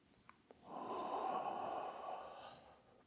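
A long, deep inhale during a breathing exercise swells up after two small clicks, holds steady for a couple of seconds, then fades; close and alone with no talk.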